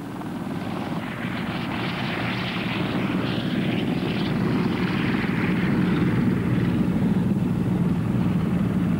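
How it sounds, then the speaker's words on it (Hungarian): Military attack helicopters of a combat helicopter regiment lift off and fly over an airfield, a loud steady rotor and turbine roar with broad rumble that holds for the whole stretch, close and continuous, with no talking. "helikopter meglódul és kigurul az állóhelyről"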